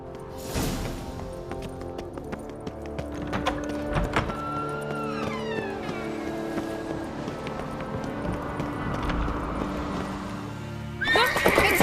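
Horse in The Witcher 3 video game neighs and gallops with clip-clop hooves, a whinny rising midway over steady hoofbeats and game ambience, ending in a sharp burst of noise.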